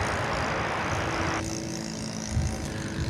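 An aircraft passes at DFW Airport with a steady, loud broadband roar that thins partway through, leaving a lower rumble, heard alone without talk.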